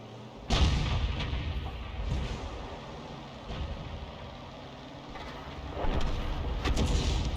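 A self-propelled artillery gun fires in World of Tanks, a heavy boom followed by rumbling engine and battlefield noise, with further distant thuds.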